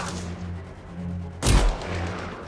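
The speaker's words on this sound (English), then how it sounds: "give me some covering fire" A single loud gunshot booms from a video game shown at Microsoft's E3 2017 conference, cutting sharply through a steady low background rumble before fading.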